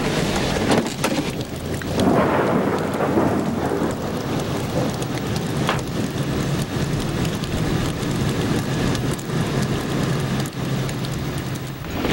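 Steady heavy rain pours throughout while rolling thunder rumbles low underneath, a dense continuous storm with no voices.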